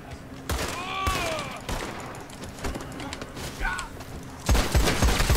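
Rapid gunfire in the video game Red Dead Online, several sharp bursts of shots spread through the moment, with the heaviest volley at the end.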